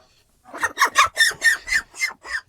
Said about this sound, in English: This is 10 weeks. Cornish hen cross.